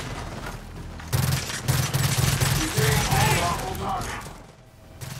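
Rapid, feathered-trigger bursts from the Overkill shotgun in Gears of War 4 crack out in a quick run of loud, closely spaced blasts, with game noise and a voice briefly beneath.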